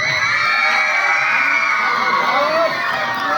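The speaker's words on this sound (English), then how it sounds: "When trophy lifts up, it is the actual time to shout and clap." A school crowd at an annual sports prize ceremony shouts, whoops and cheers in a loud, continuous roar as a trophy is lifted, with excited children's voices high in the mix.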